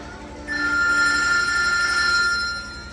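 A telephone bell rings continuously for about two seconds, a bright, sustained electronic trill that starts abruptly and fades at the end, loud and alone.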